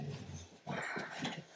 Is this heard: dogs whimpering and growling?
yes